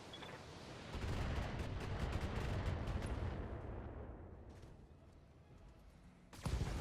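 Mech weapons fire in the BattleTech video game, a dense barrage of overlapping booming gunfire and artillery-like blasts rolling for several seconds, easing off and then ending with a sharp loud burst.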